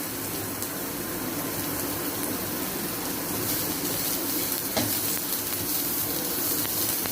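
A prawn or mackerel uddamethi sautés in a pan, giving a continuous hissing sizzle with occasional soft clicks of stirring and no talk.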